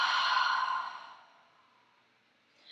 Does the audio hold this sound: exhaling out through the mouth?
yes